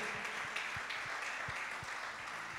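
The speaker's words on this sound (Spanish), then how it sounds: "Denle un aplauso al Señor." A church congregation applauds steadily in a reverberant room, a dense wash of clapping with some low rhythmic thumps underneath.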